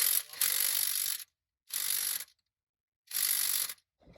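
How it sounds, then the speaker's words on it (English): Power gun with a deep well 24 socket driving the crank bolt on a 2007 Suburban, three separate bursts of loud whirring and ratcheting with brief silences between them. "Got the deep well 24, put it on my gun"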